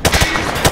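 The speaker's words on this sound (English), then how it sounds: "Just fire from the hip." A rifle fired from the hip in Call of Duty Modern Warfare 2, a fast, loud, close burst of several shots in quick rhythm.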